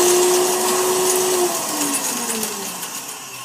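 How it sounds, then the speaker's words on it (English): An old Vitamix blender runs loud and near, a high motor whine that drops in pitch as it loads up and then churns on steadily before easing off slightly. "I have honestly the oldest Vitamix on the planet."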